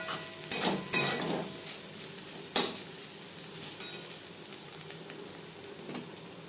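Teasel gourd with grated coconut and slit green chilies stir-fried in a pan: a few quick scraping clatters of a spatula at the start, then a quiet continuous sizzle with an occasional soft stir.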